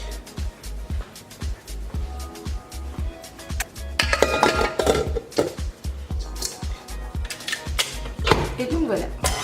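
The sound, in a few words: mixing unicorn sablé cookie dough in a bowl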